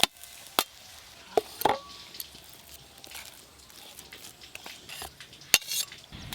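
Bean filling is scooped out of a wok with a metal utensil, leaving a few sharp scraping clacks and clinks spread over a quiet background.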